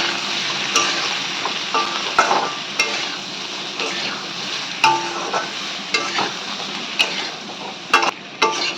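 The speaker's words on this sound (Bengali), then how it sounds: "এবার এই সমস্ত কিছু দিয়ে ভালো করে কষিয়ে নেব মশলাটাকে" Potatoes frying and being stirred in a pan with salt, cumin, chilli powder and turmeric, a steady close sizzle broken by repeated scraping and stirring clicks, with no talking.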